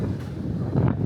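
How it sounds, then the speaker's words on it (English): Strong wind buffeting the microphone in a low, gusty roar on the deck of the moving cruise ship Carnival Celebration, steady for the whole short moment. "It is very windy though while the ship is moving."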